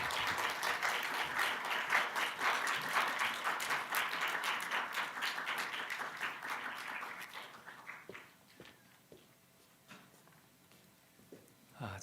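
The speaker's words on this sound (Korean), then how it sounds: "우리 따뜻한 마음으로 박수로 맞이할까요?" Church youth applaud warmly to welcome a pastor, a fairly distant crowd clapping steadily for several seconds before it thins out into a few scattered claps and quiet room noise.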